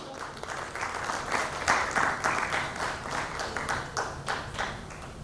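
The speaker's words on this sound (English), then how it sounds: "Let's give them a triumphant applause." An audience at an Indian business event applauds a panel, dense clapping from many people that swells in the middle and carries on steadily, with no talking over it.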